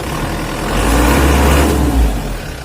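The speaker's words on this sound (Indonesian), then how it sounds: "Dari suara mesinnya sudah kelihatan mesinnya anteng," An Isuzu Elf long truck engine runs smoothly as the throttle is pressed, a close, steady low rumble swelling slightly in the middle before easing.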